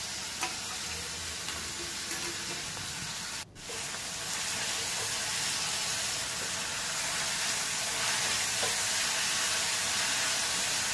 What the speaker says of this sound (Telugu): ఇప్పుడు తురుము పెట్టుకున్న 1/4 కిలో బీట్రూట్ అయితే వేసి లో ఫ్లేమ్లో పెట్టి బాగా ఫ్రై చేసుకోవాలి